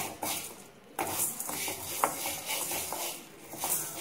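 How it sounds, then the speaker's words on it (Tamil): Urad dal dry roasting in a pan on the stove for a homemade kuzhambu chilli powder, with scraping, stirring sounds and faint light sizzling, fairly close and steady with no talk. "இப்போ இது பாதி வறுபடும் போதே நம்ம தொளி உளுந்து பாதி போட்டுடலாம்"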